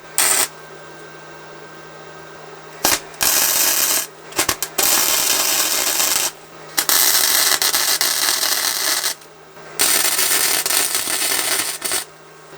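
Tack welding on a 1.5 mm steel plate at a workbench during a Honda Transalp restoration: several bursts of crackling, hissing arc of a few seconds each, separated by short quiet gaps, close and fairly loud with no talk.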